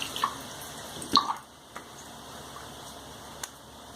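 Water splashed onto a head being shaved, with a few faint drips and small splashes at intervals against quiet background.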